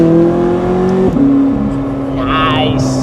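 A McLaren sports car revs briefly, its engine note dropping sharply with a crackle from the exhaust, followed by a lower steady drone while people talk in the cabin.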